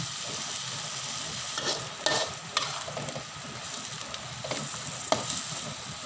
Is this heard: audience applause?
no